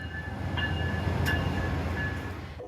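Passenger train at Martinez station near San Francisco, a steady low rumble of rail cars with brief squeals and a short higher tone, continuous and close, no voices.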